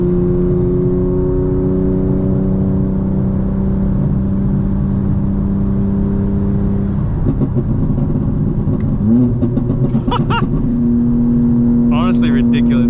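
A tuned 2025 BMW M4 Competition xDrive engine accelerating, with a steady droning tone that rises as it revs, heard from inside the car with someone talking over it.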